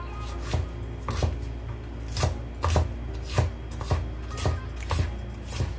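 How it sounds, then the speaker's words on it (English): A knife chops ingredients for meatballs and sauce on a cutting board, with quick, close, rhythmic strikes roughly twice per second and no talking. "I'm chopping right now everything."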